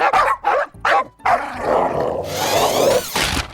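Several sharp dog barks in quick bursts, loud and close, followed by the continuous whirring motor of an RC car with more barking over it.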